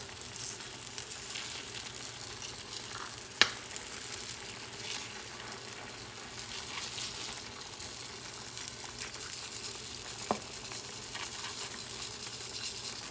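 Rice goes into a pan of frying pork ribs, giving a quiet, steady sizzle with a couple of sharp clicks and faint stirring scrapes throughout.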